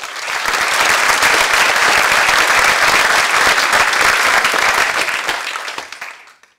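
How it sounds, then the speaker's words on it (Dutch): An audience at a university lecture breaks into loud, sustained applause for an arriving speaker, a dense wash of many hands clapping close by that holds steady for several seconds, then fades out. "alvast een warm applaus voor Trudy de Huwe"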